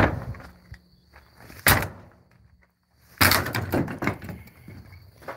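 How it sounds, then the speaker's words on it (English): A door bangs in a cow barn, one sharp loud crack followed by a longer burst of clattering and rattling knocks, close by. "Yeah, I just broke the door."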